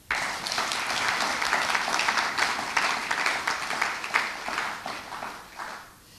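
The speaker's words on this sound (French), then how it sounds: "Est-ce qu'on peut acclamer pour eux?" An audience at a ceremony presenting traditional medicines, incense, perfumes and soaps breaks into steady, dense applause from many hands, sustained for several seconds before fading out at the end.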